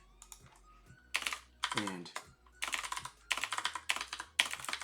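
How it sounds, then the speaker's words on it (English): Typing on a computer keyboard with blank, unlabelled keys: bursts of close, rapid clicking keystrokes in several separate runs, with a brief word spoken in between. "I have a keyboard that has no symbols on it, so I can't see what I'm typing."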